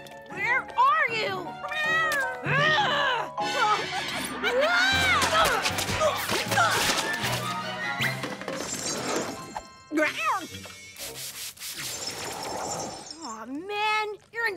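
A cartoon cat meows and yowls repeatedly in drawn-out, wavering cries, with breaking and crashing noises mixed in and lively animated sound effects throughout.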